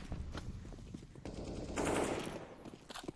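Automatic gunfire in a competitive Counter-Strike match on the Inferno map, with rapid bursts of shots rattling densely through the clip over background game noise.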